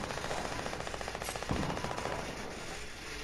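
Rapid automatic gunfire in the Fortnite video game, a fast, steady burst of shots that sounds somewhat distant. It runs for about two seconds and then gives way to a quieter background.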